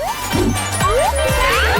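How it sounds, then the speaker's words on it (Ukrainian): A new phone hits the floor and smashes, giving a short, loud crash with rattling fragments against a busy background of music and sound effects. "Розбився, але це був мій новий телефон."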